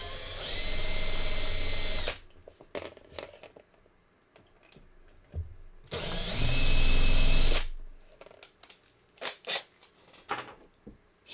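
A power drill whines loudly in two bursts of about two seconds each while drilling into a die-cast Hot Wheels Volkswagen T2 toy truck, separated by quieter clicks, knocks and handling noises.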